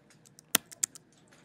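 Scattered keystrokes on a computer keyboard, a handful of light clicks at uneven intervals with two sharper, louder taps in the middle, quiet and close with no talking.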